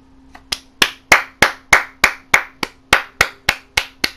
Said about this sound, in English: Just quick round of applause for Bob Iger